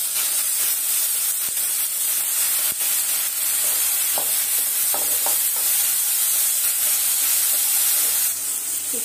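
Chopped tomatoes hit a pan of already fried onions, giving a loud, steady steaming hiss and sizzle throughout, with occasional clicks and scrapes of stirring, close and with no one speaking.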